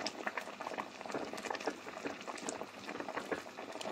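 Ginataang tilapia in coconut broth bubbles at a steady boil, a dense close patter of popping bubbles that continues throughout.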